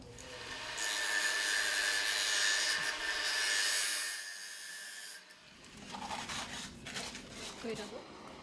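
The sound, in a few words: grinding a small piece of drain pipe to size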